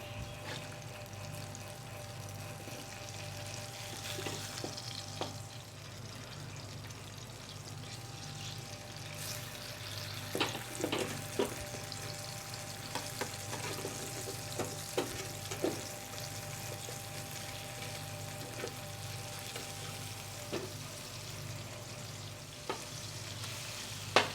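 Fish pieces coated in spices frying slowly in a pan on medium-low gas, a quiet steady sizzle with scattered soft pops and crackles throughout.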